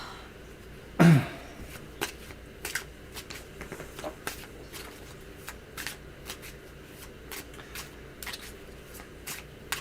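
Tarot cards shuffled by hand in one loud riffle near the start, followed by quieter handling clicks and card taps scattered through the rest, with no talking.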